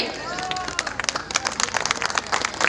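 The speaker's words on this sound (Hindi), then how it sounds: "जोरदार तालियां" Crowd applauding loudly at an election rally in Roorkee, Uttarakhand, welcoming a cabinet minister, a dense, rising wave of clapping with sharp individual claps and crowd murmur beneath, growing stronger toward the end.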